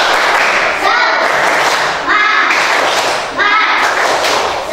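A group claps out a rhythmic tepuk semangat spirit cheer in a classroom, three loud bursts of quick clapping mixed with voices, close and energetic.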